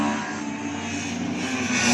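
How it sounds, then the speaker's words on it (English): A Ford Escort Mark II Mexico race car roars past at close range at a Cadwell circuit track day, a loud sustained engine drone that builds slightly toward the end. "Getting interrupted there by the Mark II Mexico, but I've got to tell you, I'm fine with that because it sounds fantastic"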